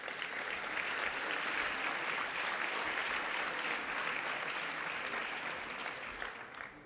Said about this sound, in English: maybe we start with an applause?